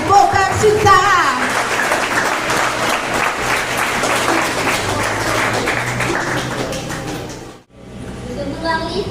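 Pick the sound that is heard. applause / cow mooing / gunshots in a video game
applause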